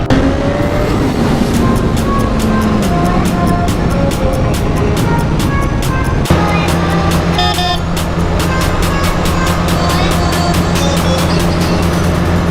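Jammed road traffic in Karachi: a dense, loud, unbroken roar of many idling and creeping vehicles, with tonal horn toots rising over the rumble throughout.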